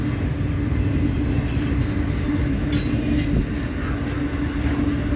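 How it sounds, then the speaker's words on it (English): A freight train hauling well cars rolls past close by as a loud, steady rumble, with wheel and rail clatter and a few high squeals and clanks over it, and no one talking. "Orion, here comes some of your well cars, buddy, for IAIS."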